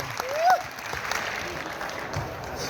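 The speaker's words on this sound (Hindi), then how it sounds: "मैं चाहूंगा मिस्टर जयवीर गुरु जी के लिए एक जोरदार तालियां आपकी होनी चाहिए।" Audience applause at an AWPL business gathering, a broad steady wash of clapping that holds through the whole stretch at moderate level, with a brief voice-like tone near the start.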